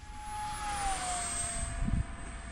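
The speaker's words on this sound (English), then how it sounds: "this is one of the fastest planes I ever seen" A fast RC airplane with a 2:1 thrust-to-weight ratio flies past in a steady, fairly faint high-pitched whine that shifts down in pitch as it passes, with no talking.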